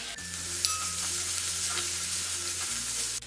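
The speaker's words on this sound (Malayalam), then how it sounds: "ഇനി ഇതിലേക്ക് ഈ ക്യാരറ്റും മല്ലിയിലയും കൂടി ചേർത്ത് വഴറ്റി കൊടുക്കാം" Carrot and coriander leaves sautéing in a pan for rava kuzhi paniyaram, a steady close sizzle with soft stirring scrapes, no voices.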